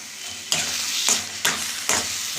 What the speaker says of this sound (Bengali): ও হয়ে গেছে, এবার আমি এটা ভর্তার মধ্যে মিশিয়ে দিলাম।